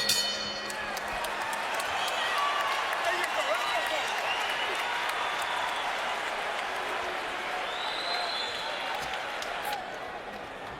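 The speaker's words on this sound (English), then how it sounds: "Crowd is into it now." Boxing arena crowd at a Kovalev versus Hopkins fight, a steady dense roar of cheering and applause that holds at an even loud level throughout, with no clear voices standing out.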